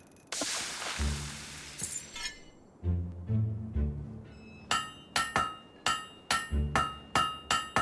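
A blade being hammered at a forge in Fable 3, with a rush of noise and low rumble at first, then a steady run of ringing metallic hammer strikes, close and loud.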